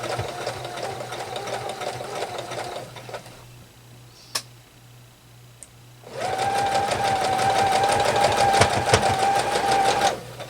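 A sewing machine stitches a quilt block seam in fast, steady mechanical bursts, running for a few seconds, pausing briefly near silence with a couple of small clicks, then starting again and running on close and loud.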